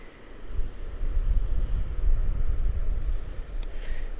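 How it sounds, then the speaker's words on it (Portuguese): Strong wind buffets an outdoor microphone near the water at a former fishing village, a continuous low, rumbling roar that swells and dips for several seconds with no talking. "Talvez o ruído aí do vento atrapalhe um pouquinho a filmagem."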